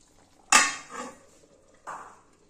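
A metal lid lands on a pot of chicken in two sharp clanks, the first louder with a ringing decay and a softer rattle after it, then a second lighter clank in a quiet kitchen.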